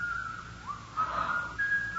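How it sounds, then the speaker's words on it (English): A single person whistles a wavering, thin melody, sliding up and down in pitch, fairly quiet and alone, in an old radio mystery drama. "There's that whistling again."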